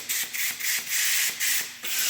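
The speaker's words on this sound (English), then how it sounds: "See, the sander doesn't even want to do it." Rhythmic rasping strokes of a sander working on the body of a 1967 Dodge Dart, about eight close, even back-and-forth passes.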